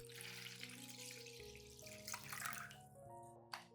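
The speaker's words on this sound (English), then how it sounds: "pour the diluted coffee and baking soda solution into a small container." A diluted coffee and baking soda solution being poured into a small container, heard as a close, continuous liquid trickle and splash over a background of soft tonal music, fading to a brief final drip.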